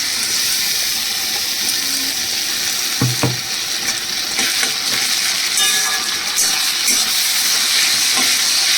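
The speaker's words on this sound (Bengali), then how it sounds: "এবার এর মধ্যে আমি দিয়ে দিচ্ছি রসুন আর আদাটা পেস্ট করাটা" Garlic and ginger paste fries with onions in a pan, a loud, continuous crackling sizzle throughout. Occasional stirring clinks sound over it.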